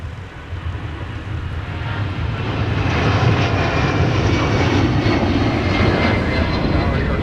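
An airliner takes off from the snowy, windy MSP airport runway, its engines rising from a rumble to a loud, steady roar that fills the whole stretch, while radio voices talk beneath.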